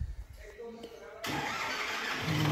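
A Farmtrac 6055 PowerMaxx CRDI tractor engine cranks and catches, then settles into a loud, steady diesel running sound close by, with people talking over it.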